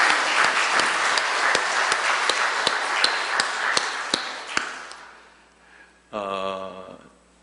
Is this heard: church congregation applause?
yes